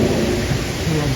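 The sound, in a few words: rain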